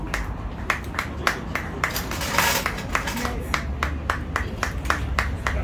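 Audience at a community health gathering in Haiti clapping hands, a steady rhythmic beat of individual claps with a brief swell of fuller applause midway, moderately close.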